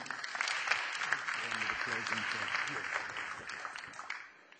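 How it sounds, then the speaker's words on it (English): An audience gives a round of applause at the 2015 Presidential Outreach Awards ceremony in South Africa. Steady, moderately loud clapping lasts about four seconds with a voice heard underneath, then fades out at the end. "Round of applause"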